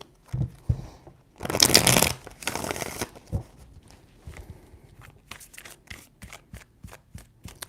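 Tarot cards shuffle in three quick riffling bursts, close and crisp, followed by light taps and card handling; no talking.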